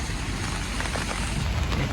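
Heavy rain falling outdoors on a London street, a steady dense wash of drops close by with no pauses and no voices.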